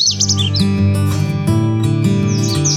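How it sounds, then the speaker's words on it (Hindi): Bright chirps and twitters of birds on a rooftop garden come in short bursts at the start and end, sitting over sustained background music. "छत पर आज ये चिड़ियाएं बहुत ज्यादा एक्साइटेड है"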